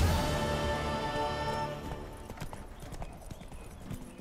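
Horse hooves galloping in the video game The Witcher 3, a rhythmic clip-clop of hoofbeats that follows a fading musical tone, moderately loud and continuous.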